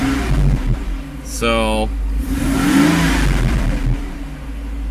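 A car engine with a freshly rebuilt fuel distributor idles just after a cold start, a steady low hum with a brief rev partway through, while someone speaks over it.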